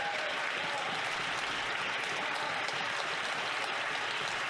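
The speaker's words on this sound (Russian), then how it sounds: "Посмотрите, как аплодирует Мэри НГ" Sustained applause in the Canadian parliament, a broad, even wash of many hands clapping from a distance with no breaks and no voices over it.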